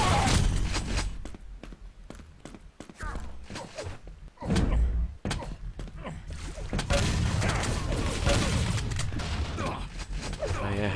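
Loud, sharp bursts of shotgun fire during a team deathmatch in Quake Live, cutting through dense game noise and overlapping commentary voices, with one heavy boom near the middle.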